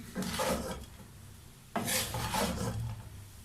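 Chicken spring roll filling is stirred and mixed in a pan, giving two scraping, rasping bursts of utensil against cookware, each lasting about a second, close up with no voices.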